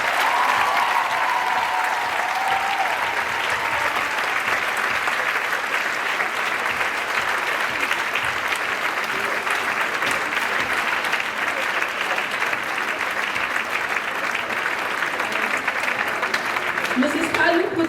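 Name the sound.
graduation audience applause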